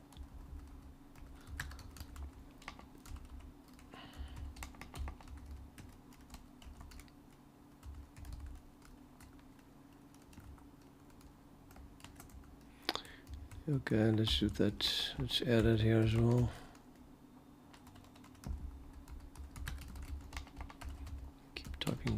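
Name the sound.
typing on a computer keyboard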